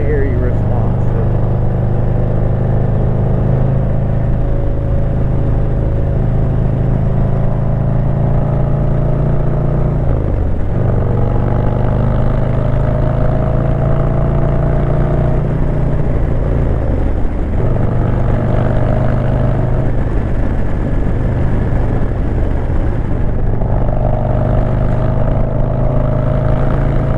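A 2025 Harley-Davidson Road Glide with a 117 engine pulls hard in sport mode. Its loud, close engine drone rises in pitch, dips briefly at each shift, then climbs again over steady wind rush.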